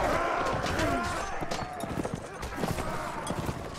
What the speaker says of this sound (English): here comes some more horse just in time